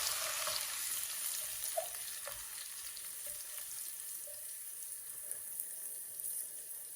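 Garlic sizzling in hot oil in a pan for a dried fish curry with potato and eggplant: a steady, even crackling hiss with small pops, close and continuous, with no talk.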